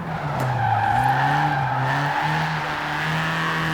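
In a racing video game, a car slides sideways after a USB handbrake pull, tires squealing in a long, loud, wavering skid over the droning engine, with no voices.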